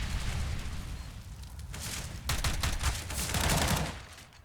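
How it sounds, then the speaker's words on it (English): Tec-9 pistol fire in a Counter-Strike match on the Mirage map, dense rapid reports piling into a continuous roar, loud and fairly close with no talk over it. "A little bit of chip damage going out by that Tech 9 in the hands of CJ the King."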